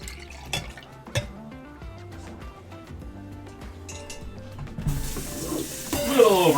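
Liquid is poured back into a container in a home kitchen while steak au poivre is being made, giving a few seconds of trickling and splashing that grows louder toward the end, with faint kitchen clatter around it.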